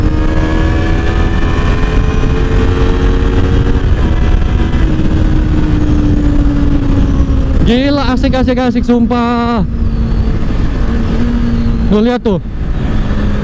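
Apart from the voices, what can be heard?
Honda CBR250RR motorcycle engine while riding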